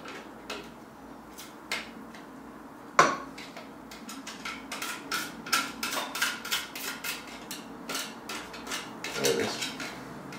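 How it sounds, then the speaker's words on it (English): A metal knife scraping cooked chicken-soup bits off the bottom of a pot: a sharp clank, then a run of quick irregular scrapes and clinks close by, under low kitchen background. "just take my knife, if I can find it, with this. Just scrape all that goodness off there"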